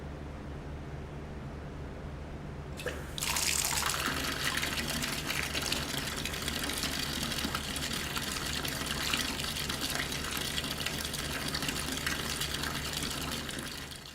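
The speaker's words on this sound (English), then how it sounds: "Ezaki would turn on the water to his bathtub" Water gushes from a tap to fill a bathtub, starting abruptly after a few seconds of low hum and then pouring steadily and loudly without pause.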